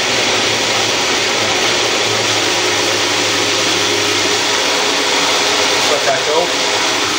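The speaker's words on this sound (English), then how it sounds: "now you can actually see the mixture is actually blending up" A blender mixes garlic Caesar salad dressing with a loud, steady motor whine that holds constant throughout, while someone talks briefly over it.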